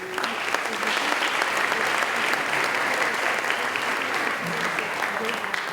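Sustained applause from an audience at a customer service awards ceremony, dense even clapping held at steady loudness throughout, fairly close.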